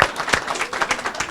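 Town hall audience applause in Plymouth, New Hampshire: a brief burst of dense clapping from a crowd, close and fairly loud, with a voice faintly mixed in.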